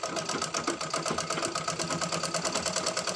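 Domestic sewing machine stitching a folded cloth face mask, worked by a child: a steady, rapid mechanical whirr with a fast regular needle rhythm running continuously and close.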